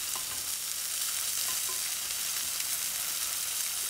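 Vegetable stock poured over cabbage in a hot pan, a loud, continuous, dense sizzle and hiss that stays close and steady throughout, alone with no talking.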